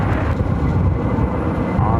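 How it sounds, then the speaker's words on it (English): A United Airbus A321neo accelerating down runway 25 right at Phoenix airport makes a steady, loud broadband roar with a low rumble that holds throughout, under faint background talk. "Have a United A321neo rolling down 25 right"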